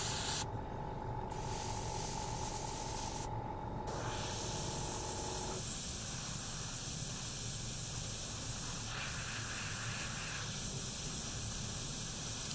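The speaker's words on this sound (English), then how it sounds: "I spray these panels first" An airbrush sprays paint onto the service panels of a model aeroplane, giving a continuous close hiss in long steady bursts with short pauses between them, heard alone without talk.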